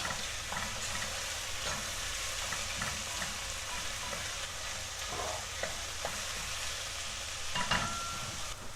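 Onions soften in a pan with salt for a Bulgarian mushroom pilaf, giving a constant close sizzle broken by soft scrapes and taps of a stirring spoon. No speech is heard.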